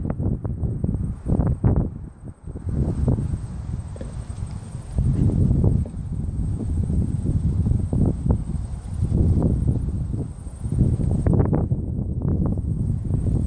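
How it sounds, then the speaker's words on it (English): Gusty wind buffets the microphone at a windy campsite in Otago, New Zealand, with low rumbling bursts that rise and fall throughout and no speech. "I hope this wind noise isn't too bad. It's pretty windy."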